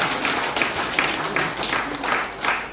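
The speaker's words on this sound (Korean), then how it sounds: "박수도 한번 치도록 하겠습니다" An audience at an academic conference on Korean farmers' music breaks into a sustained round of applause, many hands clapping together fairly close in a dense, even patter that rises and dips in waves.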